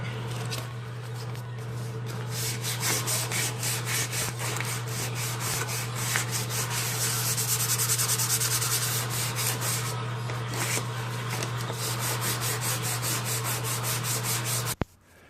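Steady, continuous sanding of body filler on a Porsche 944, with rhythmic rubbing strokes over a constant low hum, close and fairly loud, stopping abruptly at the end.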